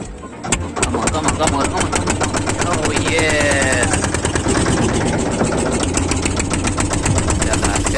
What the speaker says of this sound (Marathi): बोट चालू करतात आता